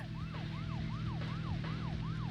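A police siren from the video game Deadly Premonition Origins wails in a steady, repeating rise-and-fall cycle, loud and continuous over a low engine rumble, with no voices.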